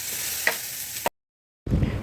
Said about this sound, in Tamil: என் பொண்ணு வந்து சிக்கன் நூடுல்ஸுக்கு வந்து இதெல்லாம் போட்டு கேப்சிகம் போட்டு வதக்கிட்டுருக்கா